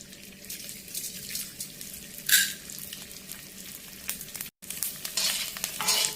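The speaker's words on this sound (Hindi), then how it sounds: "और अब मैं डालूंगी इसमें ये अपना गोंद को हम मीडियम गैस पे भूनेंगे।" Edible gum (gond) roasting in ghee in a pan over medium gas, with a soft continuous sizzle and occasional stirring scrapes and brief bursts, fairly quiet and close, no voices.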